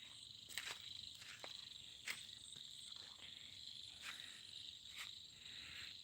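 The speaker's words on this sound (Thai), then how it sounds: "ฟังเสียงเขียดจะหน้าห้องนะครับ" Small frogs call outside at night in rural Isan, Thailand, giving sharp repeated chirps at irregular intervals over a steady buzz of insects, faint and at a distance.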